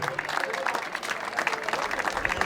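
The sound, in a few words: audience applause at a festival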